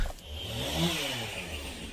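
A chainsaw in the Gears of War video game revs with a steady buzzing drone that swells slightly midway, loud and continuous with no voices.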